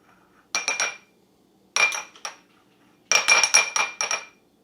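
Metal spoon scraping and clinking against a pot while skimming foam off melting butter for ghee, in three short clustered bursts separated by quiet pauses, close and fairly loud with no talking.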